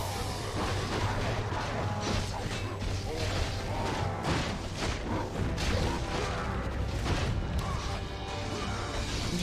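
Cannon towers firing in Warcraft 3: The Frozen Throne, a dense run of booming crashes and thuds under busy battle noise, with a voice talking over it.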